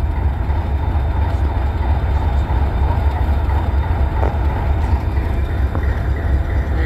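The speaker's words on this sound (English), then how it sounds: "There's the SD40-2." An SD40-2 diesel locomotive rolls past at the Illinois Railway Museum's 2023 Diesel Days, its heavy engine rumble loud, close and unbroken, with rail noise for the whole stretch.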